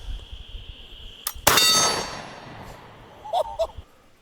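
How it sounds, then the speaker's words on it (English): A lever-action rifle fires a single loud, sharp shot outdoors, followed moments later by a fainter metallic clang as the round strikes a distant steel target, with quiet background between. "getting this thing loaded up with about 4 rounds, and then we're going to take a few shots at that steel over there."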